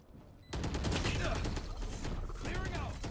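Dense, continuous gunfire from a Valorant-style shooter bursts in after a brief quiet moment and keeps up loud, rapid shooting for the rest of the moment.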